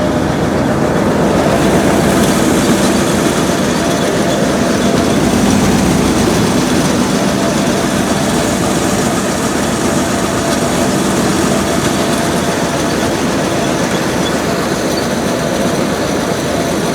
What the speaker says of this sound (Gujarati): નાખલે છે ને ભાઈ સાદું ઓલર છે, ઓલી નવી સિસ્ટમનું ઓલર નથી, આ સાદી સિસ્ટમનું છે